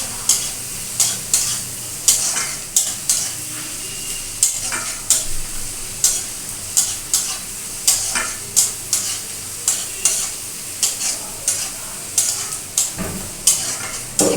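Chili powder and turmeric frying in a pan, with a constant loud sizzle and regular scraping strokes of a spatula about once a second, close by and with no talk.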